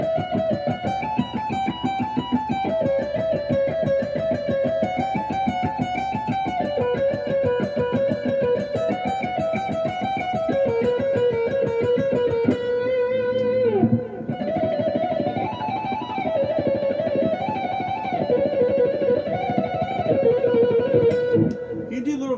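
A distorted electric guitar plays a slow neoclassical shred run of sustained notes, loud and continuous, with a brief pause midway before the line resumes.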